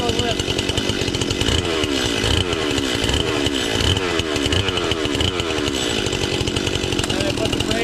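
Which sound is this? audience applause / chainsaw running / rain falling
chainsaw running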